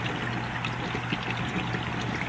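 A 125-gallon freshwater aquarium gives off a steady pouring, trickling water flow with a low pump hum beneath, close and continuous throughout.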